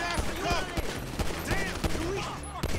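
Rapid bursts of gunfire from the video game GTA V crack repeatedly in a loose, irregular rhythm, mixed with game effects and distorted ricochet-like sweeps under a moderate level.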